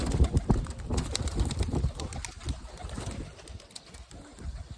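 Soft pigeon coos from a flock of about thirty-five pigeons repeat through the clip alongside rustling and faint wing flutters, close by, in a busy, cluttered background.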